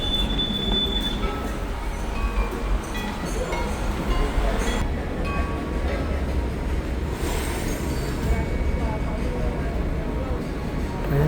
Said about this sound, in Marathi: ट्रेन तर आली आहे.